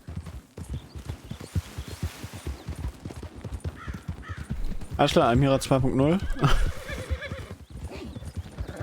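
A horse clip-clops and whinnies in Red Dead Redemption 2, its hooves beating steadily beside a stable while someone talks over them, with a loud neighing burst in the middle.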